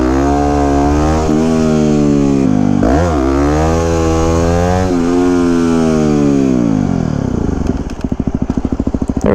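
A 2009 Yamaha WR250X supermoto engine revs loud and close, its pitch climbing and dropping through repeated throttle blips, then settling into a choppy, pulsing idle near the end.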